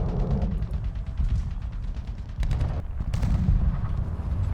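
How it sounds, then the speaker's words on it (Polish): Heavy gunfire from War Thunder: dense, rapid automatic shots rattle over a deep rumbling engine bed, pausing briefly before another sustained burst, loud and close. "tu tutaj ktoś strzelił"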